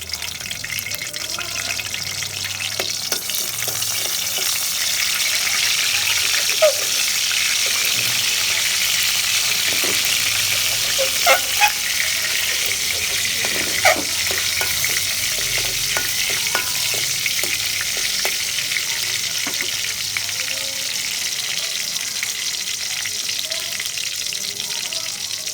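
Dried red chillies fry in hot oil with a continuous loud sizzle and crackle, punctuated by scattered pops and occasional stirring scrapes, running steadily for a long stretch.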